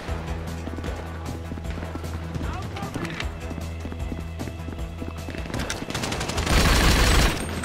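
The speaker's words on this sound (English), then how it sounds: "I'm using the retro gun" In GTA V, the retro gun fires in rapid bursts of shots, loud and close, over busy game noise, with people talking over it.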